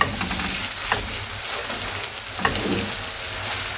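Liver sizzles and fries steadily in a pan, a dense, close hiss with a few soft stirring scrapes, heard alone without any talk.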